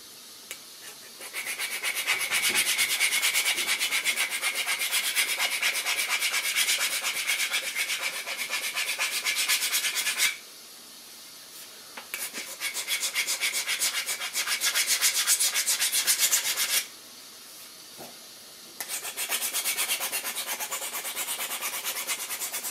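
Sanding down the peeling back of a seat, rough rasping strokes in long continuous runs broken by two short pauses, loud and close with no talking.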